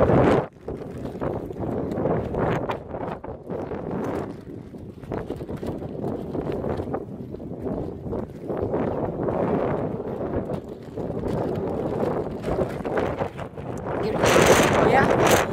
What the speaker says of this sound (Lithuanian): Vėjas labai pučia, nežinau, ar jūs mane girdėsit